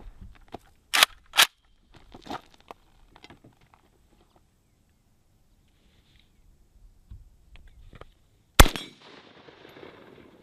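Sharp, loud, isolated gunshots from a full-length AK-47 rifle, a few cracks early on and one more after a quiet stretch, followed by brief echoing tail and faint handling noises.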